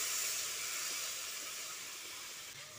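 Water poured into a hot pan of spiced potatoes and drumstick pieces, a steady loud sizzling hiss and steam rush that slowly fades, with no talk.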